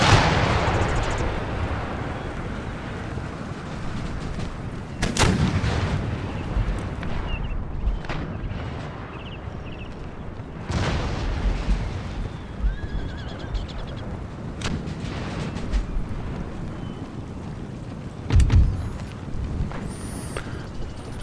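Artillery fire in the game Empire: Total War booms out in scattered, irregular blasts over a dense battlefield backdrop, with horses whinnying and hooves clattering between the loud, mostly distant cannon shots.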